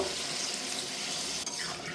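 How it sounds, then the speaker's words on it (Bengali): Water pours steadily into a pan of hilsa fish curry with potatoes and tomatoes, a continuous close hiss and splash with no talking. "এখন আমি এখানে পানি অ্যাড করে দিব।"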